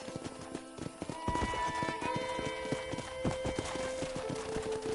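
Horse hooves clip-clopping in a steady trotting rhythm in the Red Dead Redemption video game, close and clear with a brief neigh and quiet background tones.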